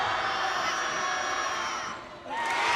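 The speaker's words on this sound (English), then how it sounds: "now you hear the folks on the other side that cheering that. They're just as loud." A crowd at a Pioneer Conference girls basketball semifinal cheers loudly and continuously, dips briefly, then surges again with shouts and whoops.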